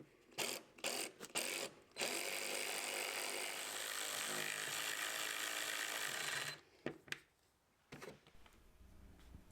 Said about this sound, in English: I'm going to take all the included self-tapping screws right here and start screwing in each of the holes.